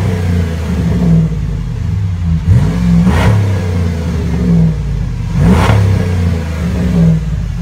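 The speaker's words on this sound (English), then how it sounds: "I had a Dynomax muffler. And as you can hear right now, it wasn't super loud or anything." A truck's dual exhaust with a Dynomax muffler idles steadily and revs twice, each blip rising and falling, the sound moderately loud and close.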